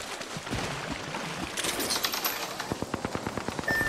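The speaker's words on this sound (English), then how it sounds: "Getting shot at." Video game gunfire, a rapid automatic burst of close shots in a steady rhythm that builds over the last second and a half, following a stretch of muffled action noise.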